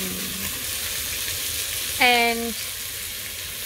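Bacon and baby onions fry in a cast-iron potjie with a steady broadband sizzle, and a short burst of louder sizzling arrives as the onions go in. A brief spoken word is heard near the start.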